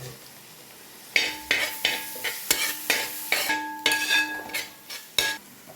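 Onions sauté in a pan with salt and turmeric, a low sizzle broken by a series of irregular metallic scrapes and clinks of a spoon against the pan, some with brief ringing tones.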